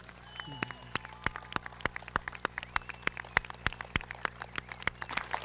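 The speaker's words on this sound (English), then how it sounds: "Another round of applause, a standing O, if you will, for Mr." Thin, rhythmic clapping from a small group at a press conference celebrating baseball great Tony Oliva. The claps are crisp and evenly spaced, with no crowd roar, and they carry on steadily through the clip.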